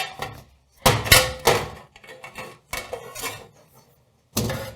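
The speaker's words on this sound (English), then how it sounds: "you can see this has a nice little latch here. You just unhook it." A metal latch on a Restaurantware springform cake pan is unhooked, giving several sharp metallic clanks and clicks in short bursts separated by quiet gaps, close and fairly loud.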